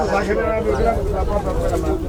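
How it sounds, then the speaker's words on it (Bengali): Pigeons coo at a weekly pigeon market at a riverside ghat, where various pigeon breeds are sold, a steady low murmur of cooing from many birds under close talk and crowd noise. "ওই দেখেন কিভাবে কষায় কবুতরটা"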